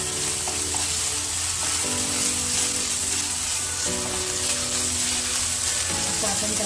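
Ginger garlic paste sautés in hot oil, giving a close, steady hiss and crackle that stays loud throughout, with faint stirring and a low background hum.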